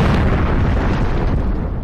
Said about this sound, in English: It'll be the biggest explosion on British soil since the Blitz itself.